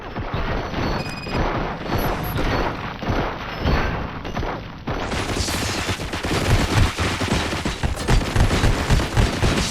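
Sustained loud gunfire from the RoboCop Rogue City video game, dense overlapping automatic bursts and booming impacts filling the whole stretch without pause.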